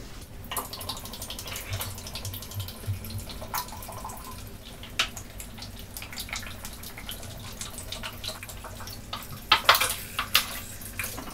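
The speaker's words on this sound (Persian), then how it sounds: "این دوتا رو آب و سرکه با هم میریزم، ولی این دوتا رو سرکه خالی." Water and vinegar are poured into glass pickle jars in a home kitchen, with soft trickling, dripping and glassy clinks scattered across the stretch and a few louder knocks near the end.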